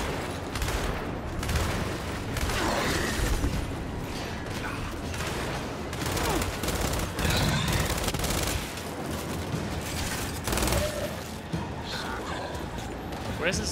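Turret gunfire in the video game Gears 5, a dense continuous barrage of rapid shots and mechanical clatter with explosions, under shouting players.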